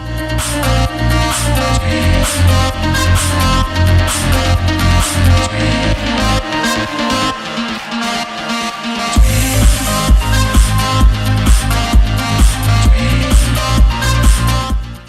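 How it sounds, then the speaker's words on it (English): A loud, dense beatbox loop on a Boss RC-505, with layered bass and percussion, auto-pans from center outward, briefly dropping its low end midway before the full groove returns. "what you heard there was the sound going from the center to the outsides"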